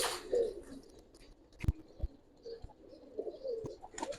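Pigeons kept for sale coo softly among scattered clicks and small knocks, faint and intermittent, with no voices over them.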